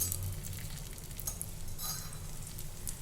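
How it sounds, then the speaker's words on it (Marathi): A frankie roll toasts in ghee on a flat tawa, giving a steady, close sizzle with a low hum underneath and no voices. "तुपावर आपल्याला हे छान भाजून घ्यायचं आहे"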